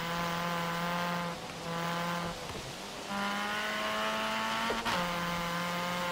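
A Mini in a Forza racing game drives at steady speed, its engine holding a constant buzzing drone that dips briefly at two gear shifts before climbing again, with no voices over it.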